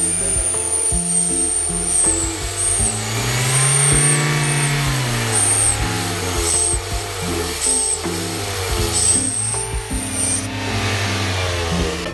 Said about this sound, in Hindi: गाड़ी स्टार्ट करेंगे।